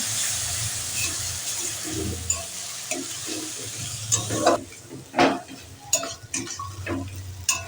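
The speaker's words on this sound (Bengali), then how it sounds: "মশলাটা ভালো করে কষিয়ে নিতে হবে" Masala with ginger and garlic paste fries in a pan for a mutton and potato curry, a steady sizzle broken by scraping stirs and clattering spoon knocks toward the end.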